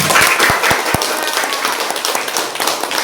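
Children clapping hands in an elementary classroom, a few sharp distinct claps at first, then a dense, noisy burst of group clapping continuing to the end.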